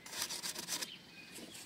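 A few quick rasping strokes of a hand saw through wood for a chicken coop, close by, then a brief quieter tail.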